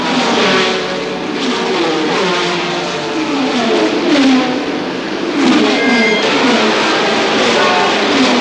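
A Porsche 917 race car engine roars at full throttle on the long straight at Le Mans, loud and sustained, its pitch rising and falling slightly as it speeds along.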